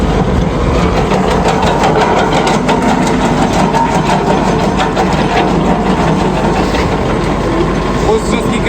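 An ARPAL AM-80 branch chipper driven by an MTZ 82.1 tractor runs continuously, a loud steady engine drone with dense rattling and grinding from branches being chipped, close and unbroken throughout.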